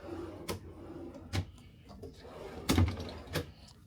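Vanity drawers in a cruise ship interior stateroom on the MSC Seashore clack open and shut several times, quiet thuds and rattles spaced a second or so apart in a calm room.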